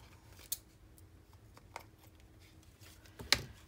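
Scissors snip through paper pieces for a junk journal, giving a few sharp, isolated cuts spaced out over a quiet background, with the loudest snip near the end.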